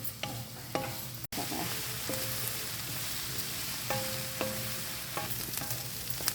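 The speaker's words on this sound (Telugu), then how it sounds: "ఆనియన్స్ వేగిపోయాక కొంచెం అల్లం వెల్లుల్లి పేస్టు" Onions frying in a pan with ginger garlic paste for onion pakoda curry, with a steady sizzle and occasional clicks of a spoon stirring, close and moderately quiet, with no talking.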